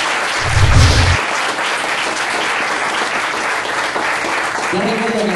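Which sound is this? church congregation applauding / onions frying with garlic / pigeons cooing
church congregation applauding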